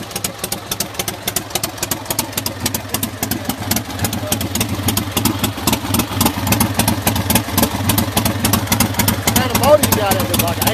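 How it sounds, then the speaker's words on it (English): A drag car's engine runs steadily nearby with a rapid, regular putter, droning continuously at a constant pace. "Listen to this lawnmower right here."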